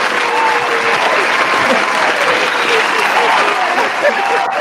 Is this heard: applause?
yes